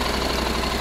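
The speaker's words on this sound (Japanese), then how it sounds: "ホンダの LC700S、 エンジンかけてもらえますか。" Honda NC700S motorcycle engine idling close by, a steady low rumble with a faint rhythmic pulse, heard alone for under a second.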